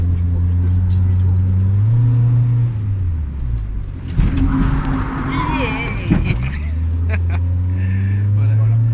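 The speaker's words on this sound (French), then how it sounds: "Je te coupe 30 secondes pour que tu profites de ce petit demi-tour." A Honda Civic EJ2 with an automatic gearbox skids through a U-turn: a steady engine drone rises and falls, with a burst of harsher tire and engine noise in the middle before it settles back.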